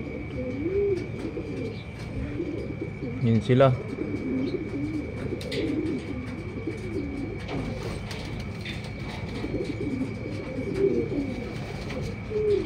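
Two blue bar checkered pigeons coo in repeated soft, rolling phrases, close by and steady, while someone speaks briefly over them.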